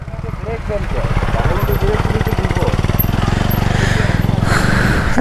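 A motorcycle engine labouring up a hill in first gear, a loud, steady, rapid throbbing that holds close and constant throughout, with someone talking over it.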